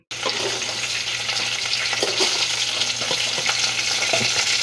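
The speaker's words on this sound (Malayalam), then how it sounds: "കടു വറക്കാം നമുക്ക്." Mustard seeds tempering in hot coconut oil for a pumpkin curry, giving a steady broadband sizzle with scattered small crackles and pops throughout, close and continuous.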